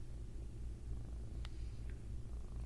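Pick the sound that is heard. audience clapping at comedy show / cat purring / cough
cat purring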